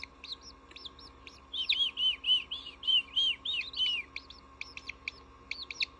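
A newborn chick peeps in thin, high, repeated chirps, some quick and clipped, others longer and warbling, close and clear against a quiet indoor hum.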